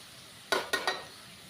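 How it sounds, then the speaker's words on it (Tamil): Tomatoes sautéed in a pan for a green sundakkai kuzhambu, heard as three quick stirring scrapes over a quiet background, each ringing briefly before fading, with no talking. "தக்காளி போட்டு நல்லா ஒரு வதக்கி எடுத்துகிட்டு"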